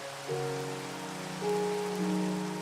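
Rain falling in the Minecraft video game gives a steady, even hiss of pattering drops. Soft tonal game music runs underneath it.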